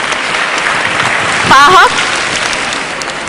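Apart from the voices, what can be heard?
audience applause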